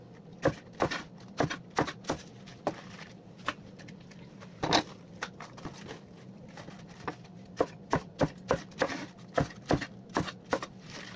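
Knife chopping cabbage on a board for organic Korean kimchi, a series of crisp, close cuts in uneven bursts with short pauses between strokes.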